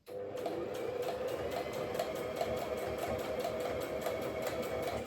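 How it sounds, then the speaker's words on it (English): A sewing machine stitching a side seam through thick fabric runs in a fast, even mechanical patter, close and steady for several seconds with no talk. "So I'm just feeding it through slowly and doing my side seam."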